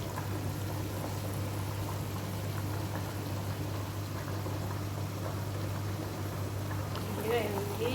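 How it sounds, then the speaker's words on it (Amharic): Onion and ginger cook over low heat in a pot, giving a steady, close simmering bubble and sizzle throughout, with a low hum underneath and a voice talking over it. "እየፈላ ነው።"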